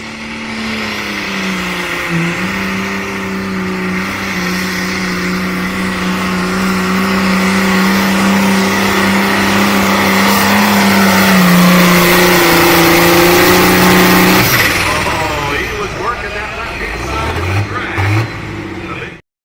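Pulling truck from the 8,500 limited pro stock class roaring at full throttle for a long, loud run, engine pitch holding high then dropping sharply as it shuts down near the end, with talk mixed in.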